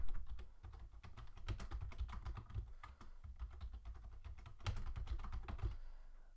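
Passphrase being typed on a computer keyboard, a quick irregular run of soft close key clicks with brief pauses, quiet and alone with no talking.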